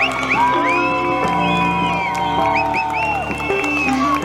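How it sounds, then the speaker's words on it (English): Away supporters at a Ladies Gaelic football cup final roar, cheer and whoop after a goal, a dense and loud crowd noise with shrill shouts and whistles rising over it throughout. "Catching the crowd by surprise, a big roar from the away support."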